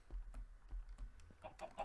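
A chicken in modded Minecraft gives a few quiet, short clucks amid light clicking, faint and brief with no talk.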